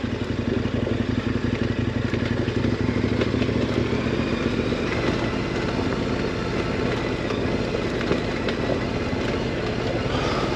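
A KTM 1090 Adventure motorcycle picks its way slowly across off-road terrain, its engine giving a steady, close, low rumbling drone with some clatter throughout and no talking.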